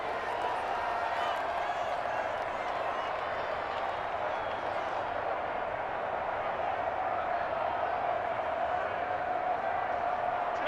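A stadium crowd in Madden 21 at a simulated Packers versus Bears game keeps up a broad, steady roar with faint clapping throughout, and a commentator's voice sits over it.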